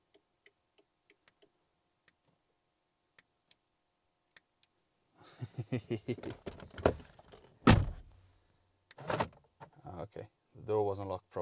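Range Rover Sport door locks clicking and thunking shut and open, a string of faint ticks followed by several loud mechanical lock actuations close by, with someone talking between them.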